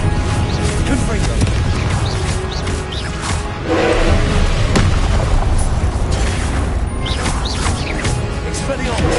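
Confringo blasting spell explosions in a Harry Potter video game boom repeatedly through a dense, loud mix of game effects and music, with a voice shouting spell names throughout.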